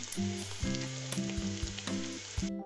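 Bitter gourd sizzles steadily in a hot pan with turmeric and red chili powder, a dense frying hiss overlaid with tonal hum and a few soft knocks of stirring before it cuts off.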